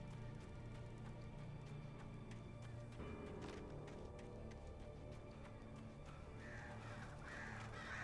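Crows caw repeatedly in the Alan Wake video game, harsh calls sounding at intervals over a continuous low ambient rumble, with no speech.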